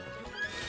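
A horse in the video game Zelda: Breath of the Wild gives a short, close whinny lasting under a second.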